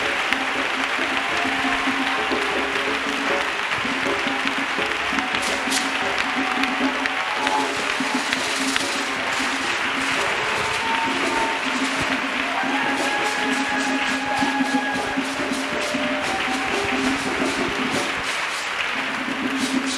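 A congregation at a worship gathering claps for Jesus, a sustained, fairly loud spread of many hands clapping over continuous room noise, with a faint tone briefly ringing through.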